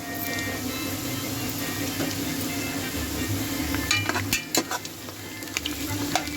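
Onions fry with ginger garlic paste in a pan for a home-style biryani. A continuous hissing sizzle runs throughout, with scraping stirs and a few sharp clinks of the utensil against the pan near the end.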